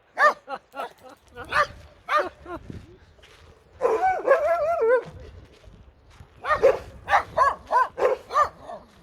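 A small dog barks in a run of quick, sharp yips and barks, with a longer whining, howling stretch in the middle, close and fairly loud, with no talking over it.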